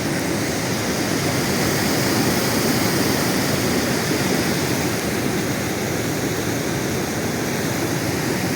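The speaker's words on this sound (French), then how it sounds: "À côté du bruit de la cascade." A small waterfall cascade rushes steadily beside a turning mill wheel in a town centre, a loud, unbroken wash of water noise filling the whole stretch with no voices.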